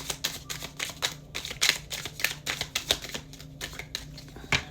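Tarot cards are shuffled and drawn close by in a quick, irregular run of crisp snapping and riffling flicks that continues for several seconds without talk.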